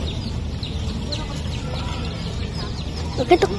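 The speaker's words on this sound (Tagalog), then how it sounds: "Madami ditong dindang sisiw oh. Ayun, sisiw." Chicks peep with thin, high, scattered calls at Kariktan ng Meycauayan, alongside soft clucking from chickens over a steady outdoor background hum, with a brief louder cluck near the end.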